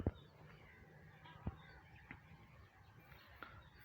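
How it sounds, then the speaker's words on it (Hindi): Poultry on a chicken farm in Sindh, with a couple of short honking fowl calls over a low steady outdoor background. "और ये हमारा फार्म है मुर्गियों का, जहाँ पे हम मुर्गियाँ रखते हैं।"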